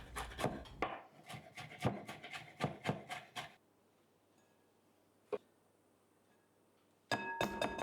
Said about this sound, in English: cut it into 3 and finely slice through it. Then chop it even finer.